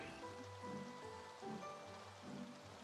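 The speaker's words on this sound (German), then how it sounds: "Sehe ich das richtig, dass es regnet?" Rain falls in the Staxel video game, a quiet steady patter and wash, with soft low thuds under it and no voices.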